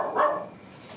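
A single dog bark, loud and close, cuts off quickly into a fading room echo.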